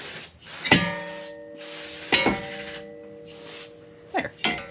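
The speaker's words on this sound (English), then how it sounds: "That's just brake clean. Just spraying them down." Brake cleaner sprayed from a can onto the brakes of a 2016 Lexus ES350, several short sharp hissing bursts with pauses between, close by, with faint ringing from the struck parts.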